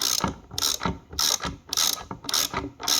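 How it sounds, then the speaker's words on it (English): A ratchet wrench tightens a spark plug tube seal installation tool on a P2R J-series valve cover. Loud, close clicking comes in about five steady back-and-forth strokes, with no talk. "I'm going to go ahead and take my wrench and my ratchet, and I'm literally just going to tighten this up."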